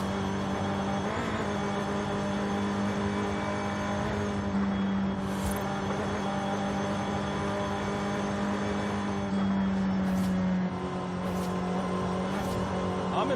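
A Nissan Sentra Nismo with its stock engine races in Forza Horizon 5, a steady front-wheel-drive engine drone holding a sustained note with shifts in pitch and brief sharp tire or impact noises, loud and continuous.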